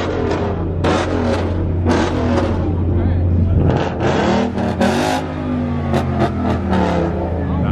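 A loud 5.0 car engine revs repeatedly in sharp bursts close by at a cars and coffee meet in Atlanta, with people talking and reacting over the roar.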